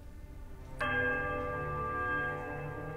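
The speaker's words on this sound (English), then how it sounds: "The bell tolls a high, piercing note of startling power." A temple bell in the fantasy video game Pillars of Eternity strikes once and then rings on in a long, bright, sustained tone that fades only slightly, clear and alone.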